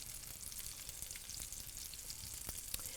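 Chicken piccata meatballs browning in a pan give a continuous, fairly quiet crackling sizzle with no talk over it.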